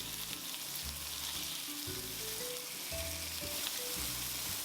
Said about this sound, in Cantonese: 加咗料頭之後，都要炒佢哋2分鐘左右，令到所有嘅料頭香味釋出為止